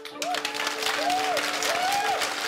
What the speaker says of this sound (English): What did you think when everyone stood up at the end clapping?